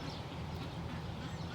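Ducks quacking on a small free-range property shared with geese, turkeys and chickens, a dense steady flock chatter filling the whole stretch at moderate level with no talk.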